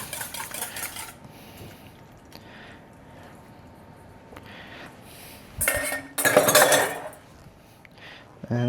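Egg mixture spread across a baking dish with a utensil, scattered soft scrapes and clinks of metal against the dish, with a louder burst of clattering near the end, close and without talk.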